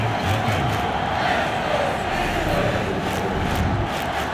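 Steady stadium crowd roar from a Madden 23 NFL video game after an opening-drive Steelers field goal, a dense, continuous murmur and cheer held at even loudness without a clear swell.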